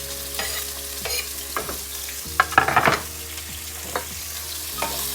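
Chopped onion fries for a beef goulash while a spoon stirs it, giving a steady sizzle broken by a few scraping strokes and one busier clattering burst midway, close and moderately loud.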